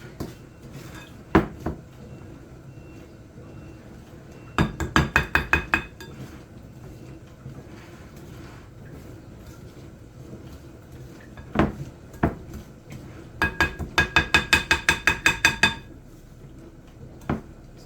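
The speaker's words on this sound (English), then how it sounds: "Trying to get this butter and sugar nice and mixed together." Butter and sugar being mixed in a bowl for sour cream cookies: repeated bursts of rapid clinking and tapping, a utensil striking the bowl in quick runs of eight or so, separated by single knocks and quiet pauses.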